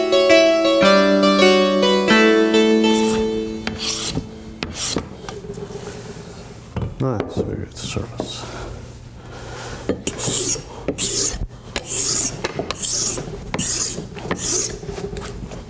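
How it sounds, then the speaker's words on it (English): A hand tool chamfers the top edge of a wooden tenon for a Shaker table leg joint, giving short raspy rubbing strokes in an irregular rhythm, close and fairly loud after a brief musical opening. "Lastly, I chamfer around the top of the tenon, more heavily on the inside, where the two tenons will meet inside the leg"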